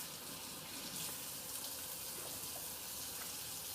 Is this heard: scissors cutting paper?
no